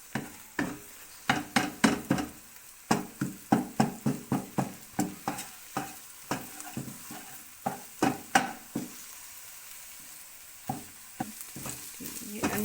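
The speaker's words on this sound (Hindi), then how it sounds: "अब हम इसको हिलाएंगे तेज़ी से यूँ।" Egg being stirred quickly in a frying pan with salt for chicken fried rice, a run of brisk, evenly spaced scraping strokes over a soft sizzle, close and fairly loud, pausing briefly near the end before resuming.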